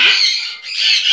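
A close lovebird gives loud, piercing squawks, two harsh bursts split by a short dip, sounding alone without any voices.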